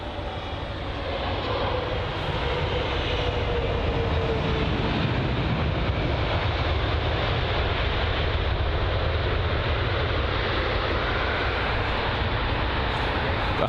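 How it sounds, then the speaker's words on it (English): An American Airlines Boeing 777 jet passing near London Heathrow, a broad, loud roar that swells within the first seconds and then holds steady and powerful, alone without voices. "We're just interrupted by that American Airlines Boeing 777"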